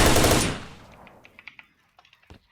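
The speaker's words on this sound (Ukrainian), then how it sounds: "якщо я буду зараз стріляти" A loud burst of rapid gunfire in the video game STALKER fades out, followed by several scattered lighter clicks and pops.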